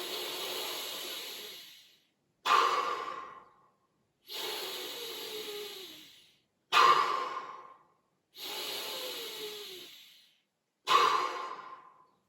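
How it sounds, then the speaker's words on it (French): Forceful breathing exercise for guided meditation: three cycles of a long, strong inhale followed by a sharper sighing exhale through the mouth, close and breathy with short silent pauses between. "inspirer violemment, sans générer de tension dans les épaules, dans le cou, les mâchoires, et vous expirerez par la bouche"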